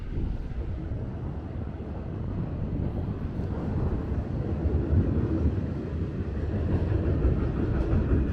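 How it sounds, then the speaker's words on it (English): Steady low rumble of a New York subway Q train running along an elevated track some distance off in Brooklyn, growing slightly louder toward the end, with faint wind noise. "Sounds like a Q train on the other side there."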